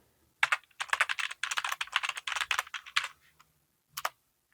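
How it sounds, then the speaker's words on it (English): Login details being typed on a computer keyboard: a quick, uneven run of close, crisp key clicks in short bursts, then a pause and a final pair of taps, heard alone. "I'm going to type my details"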